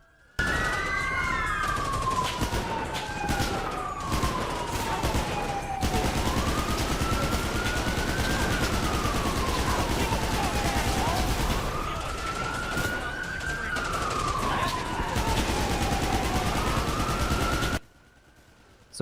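Gunfire from a firefight in the video game GTA 5: several sharp shots and bursts ring out early on, then a loud police siren wails and sweeps up and down almost continuously until it cuts off near the end.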